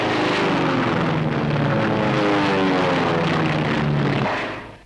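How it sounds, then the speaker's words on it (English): Propeller-driven WWII Japanese warplanes, flying in from Munda through breaking rain clouds to battle American fighters, drone loudly and steadily with a dense engine roar that holds for several seconds before fading. "Suddenly, through rain clouds breaking overhead, Jap planes from Munda come out to battle American fighters."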